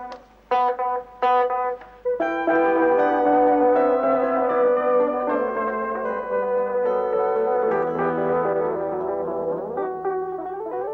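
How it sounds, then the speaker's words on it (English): Electronic tones with a few short plucked notes repeating in quick echoes, then a sustained layered tone swelling and shifting as repeats pile up. "Have some repeat echo on it."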